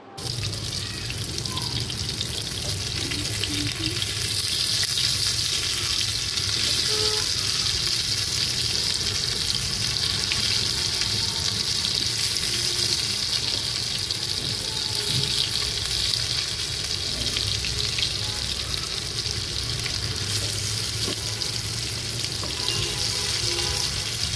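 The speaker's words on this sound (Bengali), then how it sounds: "চিকেনটা আমি ফ্রিজ থেকে নামিয়ে সঙ্গে সঙ্গে তেলের ভিতরে দিয়ে দিলাম। এইবার আমি এপিট ওপিট করে ভেজে নেব।" Tandoori chicken taken straight from the fridge fries in hot oil, a loud, dense sizzle that holds steady and close for the whole stretch without any speech.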